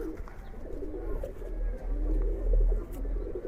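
Old-breed Giribaz pigeons coo softly and repeatedly, a low, throaty murmur that swells and fades over a steady background hum, with no voices.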